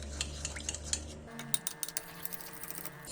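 Spoon clinking against a bowl while olive oil salad dressing is stirred, light scraping taps and a few sharper clinks up close, no talk over it.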